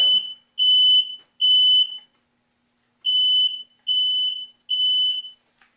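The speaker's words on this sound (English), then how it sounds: "my smoke alarm did go off during my live cooking demo" A household smoke alarm shrills during a live cooking demonstration of BBQ pork and curly potatoes, six loud, steady high-pitched beeps in two groups of three separated by a short pause.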